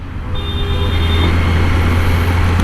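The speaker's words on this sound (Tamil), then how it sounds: "நல்ல டிராஃபிக்." Constant road traffic rumble heard from a Kawasaki Z900 superbike, a loud low drone of passing vehicles with a brief high whine early on, steady throughout and no voices.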